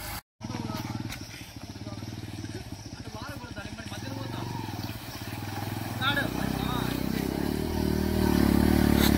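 Motorcycles ride a dusty forest track toward Ahobilam, their engines droning steadily and close, then growing louder and rougher in the last few seconds, with voices talking over the noise.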